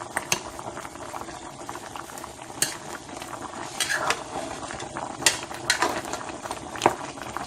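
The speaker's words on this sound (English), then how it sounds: "I'm just going to stir it." White kidney bean stew with bouillon and turkey bubbling gently on low heat while a spoon stirs it, giving a soft steady simmer with scattered scrapes and clinks against the pot, close and fairly quiet.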